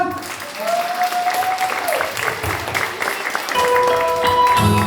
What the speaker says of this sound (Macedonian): Аплауз за цела моја екипа.